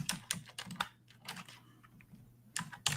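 Quick bursts of typing on a computer keyboard, close and crisp key clicks in short clusters separated by brief pauses, with a faint low hum underneath.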